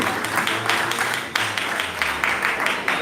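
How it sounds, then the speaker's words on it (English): An audience at a pre-K school leaving exercise applauds, steady close clapping from many hands that swells in waves and carries on throughout. "A round of applause for Auntie Sharon."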